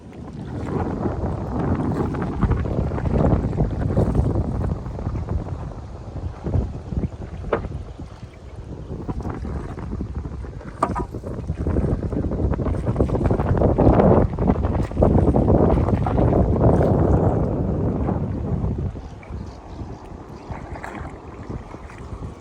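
A long, narrow wooden dugout canoe, about 40 feet long and 2.5 feet wide, travels along a river in Gadchiroli, with steady water rushing against the hull and gusts of wind buffeting the microphone throughout.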